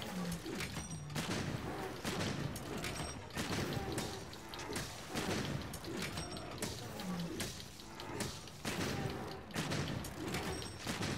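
Repeated gunlance shots during a Monster Hunter World monster fight, a series of loud blasts and mechanical clanks spread across the fight amid busy game effects.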